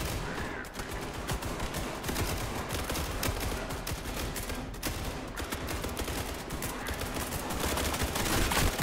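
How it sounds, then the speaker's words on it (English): Dense, continuous video game gunfire in a firefight inside a common room of an SCP facility, overlapping shots and bursts running loudly and steadily throughout. "They're shooting at each other."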